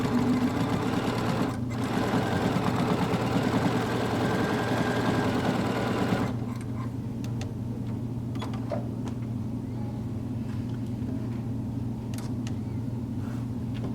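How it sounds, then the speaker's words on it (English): A sewing machine stitches a seam in Minky fabric, its close, rhythmic motor hum running for about six seconds before stopping, leaving a quieter stretch with a few small clicks and handling sounds. "I'm going to just go in here and finish sewing that so that that seam is that it's closed."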